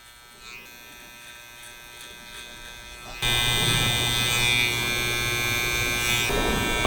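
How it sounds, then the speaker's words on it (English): A sharp electric hair trimmer cleans up the skin along a taper and shape-up, buzzing steadily up close and turning noticeably louder and fuller partway through, with no talk. "with a nice sharp trimmer, this just cleans up your skin so nicely"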